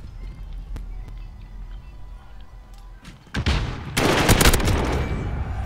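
Gunfire in a first-person shooter on PS4: sharp, isolated shots crack early, then loud bursts of heavy firing and explosions erupt near the end over game ambience.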